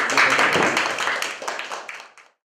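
A short burst of clapping from a group of friends at a home cooking session, close and lively, fading out after about two seconds.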